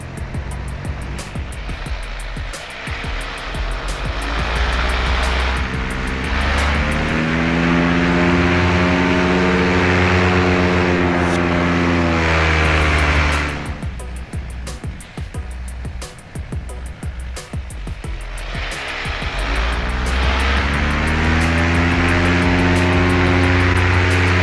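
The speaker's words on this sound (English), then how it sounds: "You can tell that I've got just a crack of throttle in." A Dudek paramotor engine idles at a crack of throttle, droning steadily up close with harmonic tones that swell and ease, while a foot drags and bumps across snow drifts beneath it.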